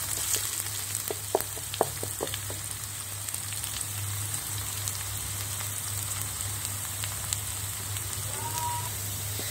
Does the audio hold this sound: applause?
no